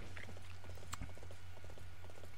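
Horse galloping in the action game Dynasty Warriors 8 Empires, a quick steady clip-clop of hooves over a low background hum, faint and even throughout.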